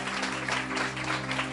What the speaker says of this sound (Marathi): माझ्या बरोबर नक्की पुन्हा एकदा जोरदार टाळ्या प्रभूच्या गौरवासाठी.